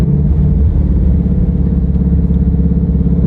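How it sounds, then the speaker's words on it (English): A car engine drones steadily and loudly at a racetrack, a close, continuous mid-pitched motor hum with no talk over it. "And there are cars on right now as we speak."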